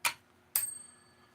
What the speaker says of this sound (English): I gotta get my bell ready.